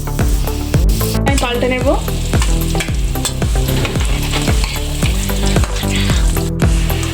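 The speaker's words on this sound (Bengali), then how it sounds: "কড়াইতে আমি তেল দিয়ে দিয়েছি, তেল গরম হয়ে গেছে। এবার একটা একটা করে আমি সব ছেড়ে দেব।" Bread rolls deep-fry in hot oil in a kadai, a loud continuous sizzle with stirring and ladle clatter throughout, while a voice speaks briefly.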